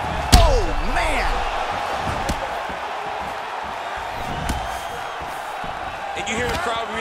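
In the UFC 4 fighting video game, a heavy punch lands with a loud slam near the start, then fainter hits follow, while a steady arena crowd murmurs and reacts and a commentator talks throughout.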